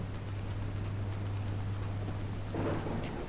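A thunderstorm in the game Junkpunk sounds as a steady wash of rain and a low rumble, with a soft swell of thunder near the end.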